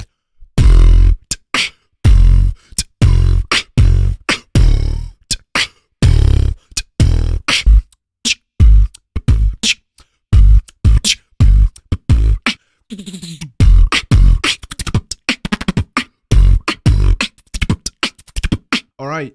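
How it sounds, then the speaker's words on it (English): A booming 808 kick drum, deep and bass-heavy, hitting loud and close again and again in a patterned beat, with no talking. "It's going to be the 808 kick."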